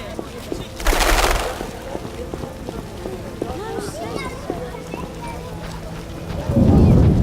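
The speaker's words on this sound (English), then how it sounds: "it's raining." Rain and thunder in The Witcher video game, steady rainfall with two loud thunder crashes near the start and end, while voices speak over the storm.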